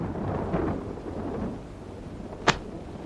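A rainstorm plays in a 1945 film scene as a steady wash of rain noise with low rumbling swells, then one sharp, bright crack near the end.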